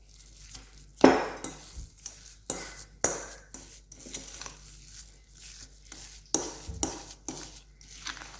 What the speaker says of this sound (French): Et puis là, je vais mélanger.